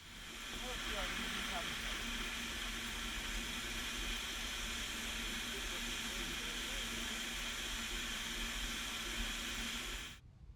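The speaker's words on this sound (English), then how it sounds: "The Tuolumne holds the distinction of being the oldest operating Heisler locomotive in the world" A Heisler steam locomotive releases a steady, broad hiss of escaping steam that runs almost without change for about ten seconds, then cuts off abruptly.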